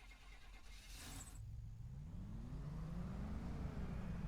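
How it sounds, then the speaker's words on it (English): A truck in the video game Farming Simulator 25 starts off and pulls forward, its engine rising in a low steady drone that grows gradually louder, with no talk over it. "let's maybe pull the truck a bit forward"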